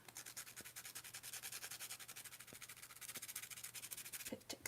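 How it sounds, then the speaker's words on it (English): Sandpaper scrubs back and forth across wet watercolour paper to add texture, a soft, quick, rhythmic rasping close by with no talking. "I can get my sandpaper. Just where it's wet."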